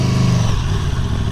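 A superbike motorcycle gives a quick throttle rev, a loud, close engine brap that swells and then settles back to a rumbling idle within about a second, with no talking.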